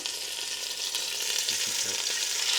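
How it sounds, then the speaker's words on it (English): Big chunks of corned beef sear in hot oil in a pot, giving a steady, close hiss of sizzling that grows slightly louder as more meat goes in. "Now you just want to grab a piece of meat, put it down into the oil."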